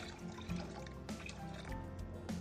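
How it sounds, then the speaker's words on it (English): Water is poured into a cooking pot of half-cooked maize and beans, a faint, close trickling and splashing with small drips, quiet and without talk. "add enough water"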